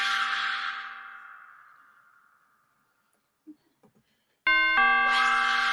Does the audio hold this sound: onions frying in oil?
no